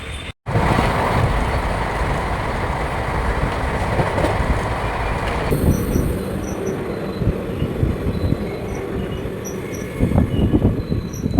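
A Vande Bharat train runs near Chikkabanavara toward Yeshwantpur with a continuous rolling rumble and wheel clatter. The tone shifts partway through, and faint rail clicks come through the steady noise.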